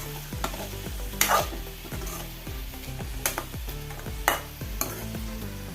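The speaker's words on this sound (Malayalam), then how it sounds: "കുറച്ച് കരിയേപ്പിലിയും ചേർത്ത് കൊടുത്ത് നല്ലപോലെ ഒന്ന് മിക്സ് ചെയ്യുക" Spoon scraping and stirring through dal curry with bottle gourd as turmeric and curry leaves go in, steady sizzling under repeated rhythmic strokes against the pan, close and alone with no talk.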